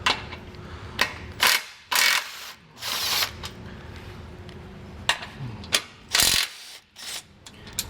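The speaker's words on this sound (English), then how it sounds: "there's 2 16mm bolts here, and this is just holding this frame guard onto the frame, so we can go ahead and remove those" A ratchet wrench works 16mm bolts loose from a frame guard on a 2022 Jeep Wrangler, sounding as close, loud bursts of rapid clicking separated by short pauses, with no voices.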